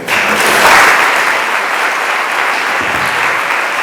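An audience at a town hall meeting applauds, a dense steady burst of clapping that swells briefly then holds, close and loud with no talk over it.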